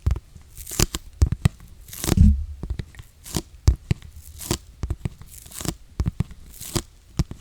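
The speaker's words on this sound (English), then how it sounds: "let's move on and get this box open" Cardboard packaging of an iPad Air being torn and peeled open up close, sharp irregular rips and crinkles with soft handling noises between, no voice.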